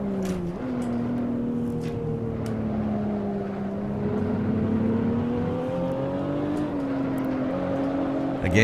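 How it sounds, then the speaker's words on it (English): Steady engine drone of a race car in the video game Assetto Corsa with a shifting pitch, as traction control makes the rev note stutter and dip repeatedly while the car holds speed. "Again, you can hear the traction control kicking in."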